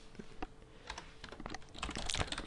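Fingers type a title on a computer keyboard, quick irregular key clicks that grow busier toward the end, close and alone with no talking.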